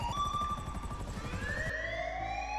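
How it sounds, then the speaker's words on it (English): Wailing sirens in a video game, a rising and falling electronic tone cycling repeatedly over a busy rumbling game soundscape, with the pitch sweeping up again after a sudden shift partway through. "What's up with the sirens? They're still going off."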